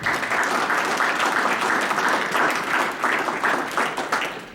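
An audience at a commemoration of fifty years of Africology and African American Studies gives another round of applause, a loud, dense crowd clapping that runs steadily without a break.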